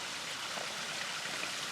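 Steady broadband rush of a running stream on the Appalachian Trail, a constant close wash of flowing water with no pauses and no voices.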